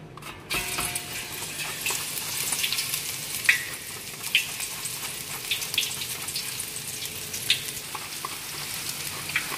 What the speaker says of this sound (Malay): kita sagat dalam minyak yang panas ya minyak yang panas